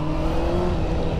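A motorcycle engine revs close by in one steady, sustained throaty drone, with no talking over it.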